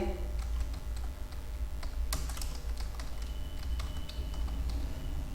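Someone types a resume in MS Word on a computer keyboard, producing a soft, continuous patter of keystrokes with occasional louder clicks over a low background hum.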